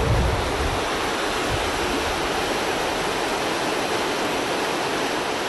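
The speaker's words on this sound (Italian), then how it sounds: "sentite dal rumore della macchina al rumore di quest'acqua impetuosa" Rushing river water in flood, a loud, steady roar of torrent filling the whole stretch with no pauses.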